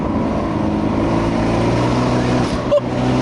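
An Abarth 124 Spider's rear-drive engine held around three to four thousand rpm while driving, a steady, loud, continuous drone with a brief dip near the end.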